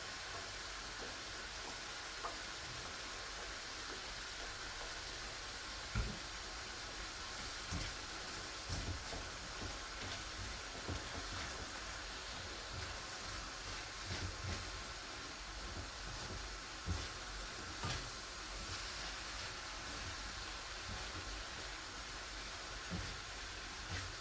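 Bell peppers and soy sauce sizzle in a frying pan with a soft, continuous crackle and occasional louder pops, fairly quiet and steady throughout with no talking.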